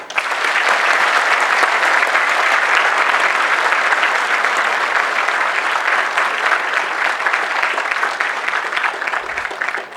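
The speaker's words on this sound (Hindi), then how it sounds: "इन सभी लोगों के लिए कम से कम ताली बजा दो आप।" A large audience at a university convocation ceremony applauds, dense and even clapping that holds steady for several seconds and then eases off slightly.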